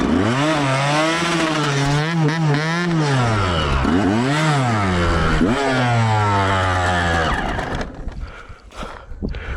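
A Yamaha YZ125 two-stroke dirt bike ridden through snow in a blizzard, its engine loud and close, rising and falling through repeated high-RPM revs before cutting back to a rough idle near the end.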